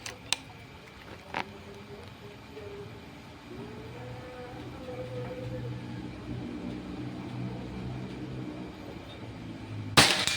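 A single sharp crack from a Predator Pajero Gen 6 air rifle near the end, preceded by a couple of faint clicks over a steady low background hum.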